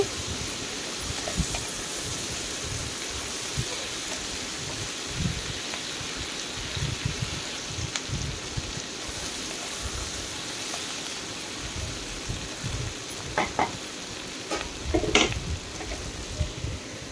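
Green chillies fry in a kadhai of oil with a soft, continuous sizzle and crackle, joined by occasional clinks and stirring taps toward the end.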